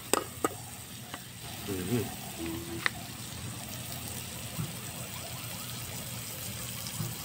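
Garlic, onion and ginger fry quietly in a pan, giving a soft steady sizzle with a few clinks of a utensil against the pan and a brief faint voice in the background.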